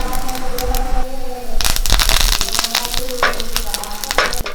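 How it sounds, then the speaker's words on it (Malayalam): Cut dried chillies and curry leaves hit hot oil for a rasam tempering, bursting into a loud, close, crackling sizzle that stays busy throughout. "ഒരു മൂന്ന് പറ്റൽ മുളക് മുറിച്ചത് ഒരു രണ്ട് കറിവേപ്പില ഇട്ട് കൊടുക്കാം"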